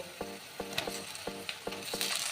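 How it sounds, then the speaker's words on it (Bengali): Small chicken pieces sizzle in a pan of well-fried onions, a steady frying hiss broken by regular stirring scrapes about twice a second, close and moderately quiet with no speech. "এখানে আড়াইশো মুরগির মাংস আছে এরকম ছোট ছোট করে কেটে রেখেছি এই মাংসটা দিয়ে দেব"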